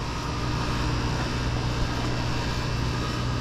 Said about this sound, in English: That's the sound of bad bearings.